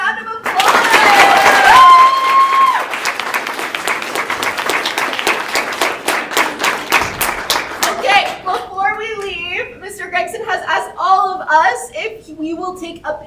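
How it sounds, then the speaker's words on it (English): Audience applause for author Marc J Gregson at a school author visit, a dense burst of clapping that swells loudly at first and then thins into scattered claps, with children's voices chattering over the fading applause. "Let's give Mark a round of applause"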